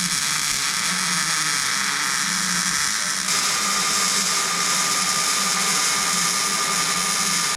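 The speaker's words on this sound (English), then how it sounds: "now for the fun weld" Steady, loud electric crackle and hiss of welding gussets onto a mini truck, continuous close-up buzzing with a slight shift partway through, then an abrupt stop at the end, no voices.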